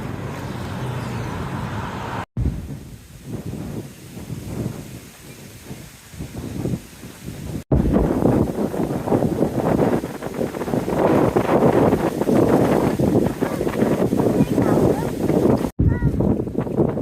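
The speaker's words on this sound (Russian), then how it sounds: "Ветер попутный, восточный, прям кайф вообще." Steady wind rushing past a bicycle and its rider's microphone, an easterly tailwind on a Florida road near a highway, a broad continuous roar that swells louder midway, with passing traffic hiss and a few short breaks.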